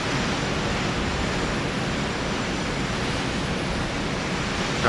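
Strong storm wind blows across a cruise ship balcony as a constant, dense roar of gusting air with microphone buffeting, loud and even throughout, rising in a brief bump at the end.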